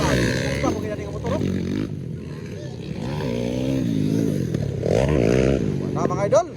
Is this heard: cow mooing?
no